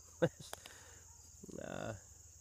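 A single frog croaks at night in a quiet off-grid home setting, giving a short rapid ratcheting call near the end after a few faint clicks, moderately close against a low steady background.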